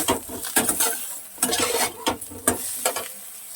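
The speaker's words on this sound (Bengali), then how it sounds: "ভাজা ভাজা হচ্ছে" Soybean chunks fry in a pan with salt and turmeric while a spoon scrapes and stirs them, producing steady sizzling broken by rhythmic metallic clinks and scrapes, close and fairly loud.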